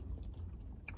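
Sushi being chewed close to the mouth, a steady soft, wet mastication with faint crunchy bites, no talking.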